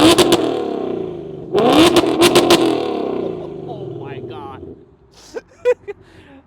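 A Ford S650 Mustang fitted with headers, set in track mode, revs hard in a few loud bursts, with the engine roar rising and falling before it settles to idle. People talk over and after the revs.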